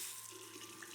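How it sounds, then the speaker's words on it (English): A faucet runs steadily into a sink, a quiet continuous splash and hiss with no voices. "water began to run from a faucet"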